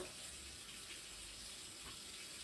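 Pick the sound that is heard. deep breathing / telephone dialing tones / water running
water running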